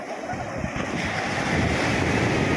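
Big ocean waves roll onto a sandy beach in stormy weather, a loud, continuous roar of surf mixed with gusting wind buffeting the microphone, building slightly toward the end.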